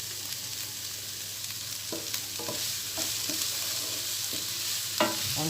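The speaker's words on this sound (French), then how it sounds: "On tourne, on remue" Vegetables fry in a pan with potatoes kept warm on very low heat, a soft steady sizzle broken by several clinking scrapes of a utensil stirring, close and fairly quiet.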